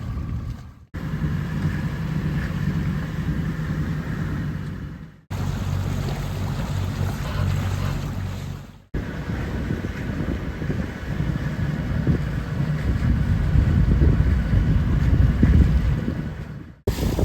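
Wind and heavy swell buffet a boat at sea on a grey, rough day off the Albanian coast near Sarande, a steady loud roar of wind noise and churning water running throughout with brief dropouts.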